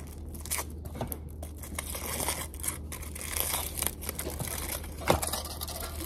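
A salted caramel hot cocoa bomb wrapper is unwrapped close by, with faint crinkling and tearing rustles over a low steady background hum.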